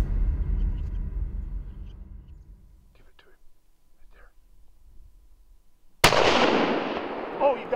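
A single loud, sharp rifle shot rings out during an elk hunt, fired at a quartering elk, bursting suddenly after quiet whispered talk and low rumble, then a rolling echo that decays over the following seconds.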